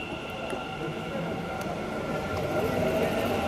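A Bangalore metro train rides from Majestic to KR Market with a steady rumbling roar and a high whine. The sound grows slightly louder toward the end, and faint voices are heard in the carriage.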